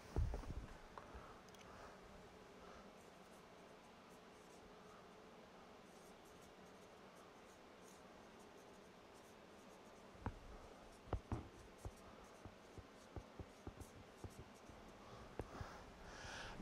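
A pen scratches and taps on a board while Ohm's law is written for an electrical circuits lecture, faint strokes growing into a string of small clicks in a quiet room.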